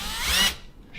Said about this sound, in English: The tendency is for the drill bit to want to slip off into the old hole.